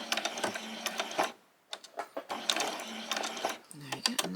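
Sewing machine stitching a back stitch on a summer top, short bursts of fast mechanical whirring broken by brief pauses, close and fairly quiet.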